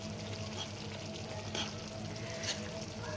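A spoon stirs bolognese sauce with mushrooms in a pan, a steady soft sizzle and scraping swirl holding an even, close level throughout with no talking.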